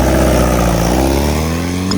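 A loud, close engine drones steadily from an open car with no doors or roof as it drives around town, a rich rumbling tone that holds even throughout.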